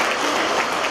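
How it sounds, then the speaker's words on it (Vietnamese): Dense applause from a congregation at a church sermon, loud and continuous for a brief moment with no voices over it. "một tràng pháo tay thật lớn để chúng ta chào mừng chúc mừng những anh chị em ấy."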